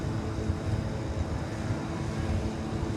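A Frontier Airlines Airbus A320 jet landing at Dallas/Fort Worth Airport, its engines giving a steady, broad roar that holds at an even, moderate level throughout with no voices over it.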